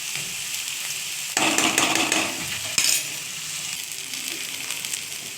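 Raw sweet mango pieces with black cumin seeds fry in a pan with a steady, close hiss that swells louder midway, broken by a sharp metallic clink of a utensil and a few light scrapes.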